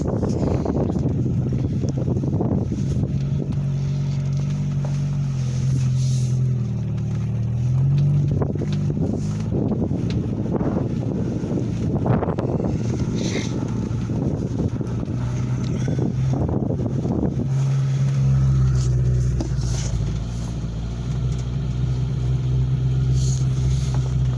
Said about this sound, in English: especially in this little Geo tractor that I'm driving